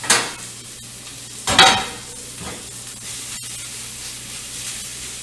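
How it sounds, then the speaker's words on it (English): Sliced cabbage being stirred as it fries in a pan: a low steady sizzle with a burst of crackling and scraping as the pan is stirred, close and fairly loud, no talking. "Stir that up a little bit so it doesn't get clumped up."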